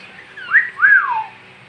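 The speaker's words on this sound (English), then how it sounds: "Come on, whistle." A person whistles a short two-note tune, a rising chirp and then a longer sliding note, loud and close with no talk.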